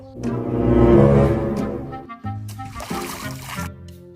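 A splashing, sloshing burst of river water plays as a cartoon sound effect, loud and close, swelling and then breaking into a second choppy splash, with faint voices underneath.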